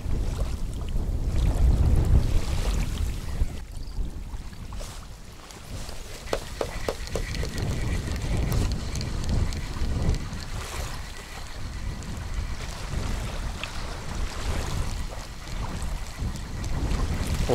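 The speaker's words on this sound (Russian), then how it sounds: "Ветер, конечно, очень мешает рыбалке." Strong wind buffets the microphone at a spring reservoir during float fishing, a steady broadband roar with gusty surges and water lapping, loud throughout with no speech.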